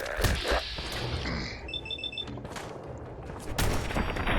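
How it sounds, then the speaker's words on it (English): Muffled booms and rumbling blasts come through a busy Fallout 4 game soundscape, with a short electronic beeping pattern briefly cutting through the noise. "Explosions off in the distance."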